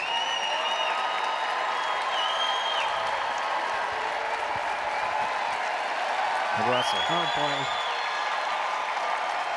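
Crowd applauding and cheering at a terrier group judging at a 2023 dog show, a steady roar of clapping and whoops through the whole stretch, with an announcer talking over it.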